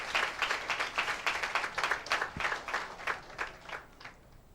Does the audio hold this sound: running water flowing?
no